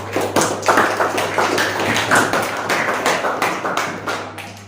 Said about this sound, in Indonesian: Beri aplaus dulu untuk teman.